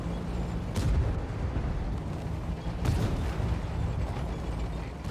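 Two heavy tank cannon shots boom in a tank video game, spaced about two seconds apart over a constant low engine rumble.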